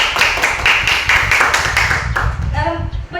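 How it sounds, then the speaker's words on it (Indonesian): A school class claps hands together in a quick, lively burst of rhythmic applause that stops after about two seconds, leaving room noise. "Tepuk tangan dulu."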